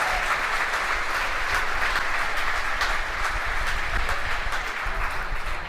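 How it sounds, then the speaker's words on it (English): Sustained applause from a team in SpaceX mission control in Hawthorne after fairing separation during the GCOM-C and Iridium-4 launch, dense and even clapping that holds steady throughout without any speech. "You hear the applause from the team gathered around Mission Control Center here in Hawthorne."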